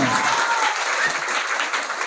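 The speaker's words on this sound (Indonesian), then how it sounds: "tepuk tangan buat kita semua" A crowd of students at a junior high school orientation claps in a dense, continuous wash, loud and full throughout the short stretch.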